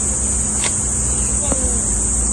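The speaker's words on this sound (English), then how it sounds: "on a tour of their bee apiary" At a bee apiary in Boracay, a steady, high, insect-like drone of buzzing bees hums continuously and fairly loud, with a couple of brief clicks and knocks nearby and no clear speech.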